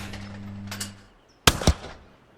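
Two sharp shotgun blasts about a fifth of a second apart, aimed at clay skeet targets during women's skeet qualifying at the Royal Artillery Barracks in the London 2012 Olympic Games video game, loud and close after a low steady hum.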